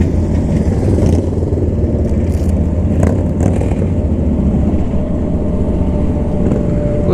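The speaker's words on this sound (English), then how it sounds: "Looks like a pretty popular place for motorcycles today." Riding on a hill road where motorcycles, sport bikes and Harleys, are passing, a loud, steady engine drone with wind rumble fills the whole stretch, with a brief rise in engine noise midway.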